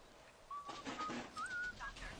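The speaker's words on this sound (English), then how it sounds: "Listen to him whistling like a crazed maniac." Faint, quiet whistling from a character in the video game Bioshock: a few short tuneful notes and a sliding pitch over a soft background hiss.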